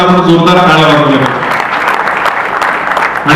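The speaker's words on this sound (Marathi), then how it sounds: "त्या सगळ्यांसाठी आता आपण जोरदार टाळ्या वाजवूया." A crowd at a Marathi award ceremony honouring a lyricist and composer breaks into loud, sustained applause, steady clapping filling the hall as a voice briefly carries over it at the start.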